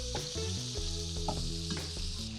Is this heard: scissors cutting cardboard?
no